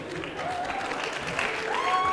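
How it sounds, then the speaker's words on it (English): Warm audience applause at a retirement celebration, a dense, steady clapping from a room full of people, swelling slightly toward the end with a brief high whistle-like tone rising through it. "Please give a warm round of applause to Cassie Miller."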